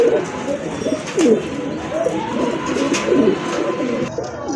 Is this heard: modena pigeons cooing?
yes